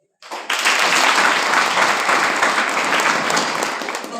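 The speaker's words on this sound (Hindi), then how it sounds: "चाहिए एक बार प्रभु के लिए ताली बजाएं" A church congregation at a Sunday meeting breaks into loud, close applause that starts suddenly and continues as dense, steady clapping, tapering slightly toward the end.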